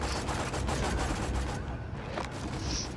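Rapid scoped-rifle gunfire in Borderlands 2, a dense volley of shots in steady succession, loud and close, with a brief gap partway through before the firing resumes.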